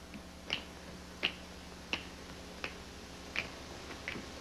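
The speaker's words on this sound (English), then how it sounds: "If you think this finger-snapping sounds absurd, just remember what it did for old Tennessee Ernie." Sharp finger snaps on a 1956 television variety show, about six crisp clicks at a steady, unhurried rhythm over a faint hum, with no talking.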